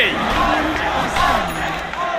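An esports arena crowd at ESL One Birmingham 2024 cheers and yells for OG during a Dota match, a continuous loud roar with a commentator's voice faintly woven through.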